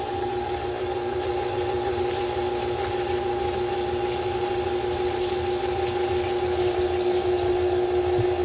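Water runs steadily from a kitchen tap as hands are washed, a constant close hiss and rush with a steady hum beneath it and no voices.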